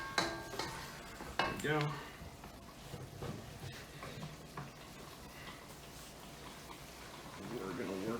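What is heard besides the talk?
mapo tofu boiling in a pan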